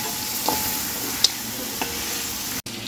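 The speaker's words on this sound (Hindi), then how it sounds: "अब इसको भी हम चिकन के साथ बहुत अच्छी तरह से भून लेंगे।" Chopped onions and chicken fry in a pan with a steady close sizzle, a few light stirring clicks and scrapes, and no speech.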